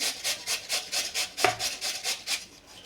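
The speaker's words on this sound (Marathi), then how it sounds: "हे बघा पुन्हा दोन्ही बराटे किसून घ्यायचे" Potatoes are grated by hand on a grater, a rapid series of about a dozen rhythmic rasping strokes, close and fairly soft, with one slightly harder knock near the middle.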